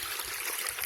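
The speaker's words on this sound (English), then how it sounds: "the rest of the water will spill off here back into the creek." Creek water spills over the edge of a tailings trap and falls back into the stream, a soft, steady trickling and splashing at low level with nothing else on top of it.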